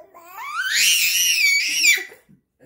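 A baby lets out a loud, rising high-pitched scream that holds for over a second before breaking off, heard alone and close.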